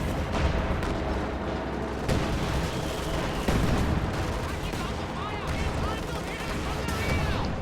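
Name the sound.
LEFH artillery barrage in a war strategy video game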